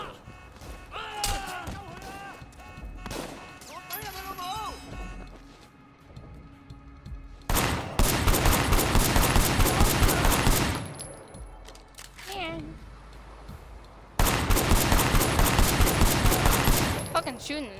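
Gunfire in the video game Sleeping Dogs: two long, loud bursts of rapid automatic shots, each lasting a few seconds, following a stretch of shouting voices and thuds.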